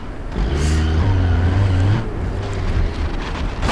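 A Hyundai Creta engine in the BeamNG driving game strains while climbing off-road terrain, a loud, close, steady drone that revs higher midway and then settles lower, with no talking.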